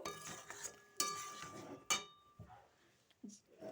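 Chicken pieces are stirred and fried in spices in a pan on a gas stove, with a utensil knocking and scraping against the metal in irregular close clinks and a few sharp taps, over a faint sizzle.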